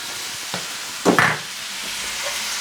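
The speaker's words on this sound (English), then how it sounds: "I'm going to flick them through the oil" Noodles fry in chilli garlic oil, a steady sizzle under a louder stirring hiss as the noodles are flicked through the hot oil, close up with no voices.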